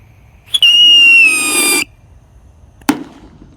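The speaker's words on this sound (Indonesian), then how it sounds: "di sini ada Roket Pirotor. Kita nyalakan menghadap ke lubang tanah bosku" A Roket Pirotor firework rocket is lit and aimed into a hole in the ground, giving a sharp pop and then a loud, piercing whistle lasting over a second that slowly drops in pitch, followed by a single bang.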